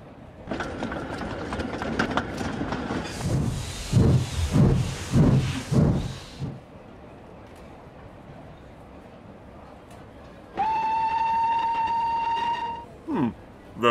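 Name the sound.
train running and sounding its whistle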